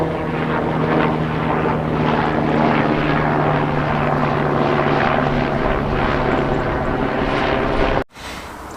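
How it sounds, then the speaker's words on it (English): A helicopter roars steadily overhead, loud and close with a thumping rotor drone, then cuts off abruptly near the end. "Every time I film, there's a blooming noisy helicopter."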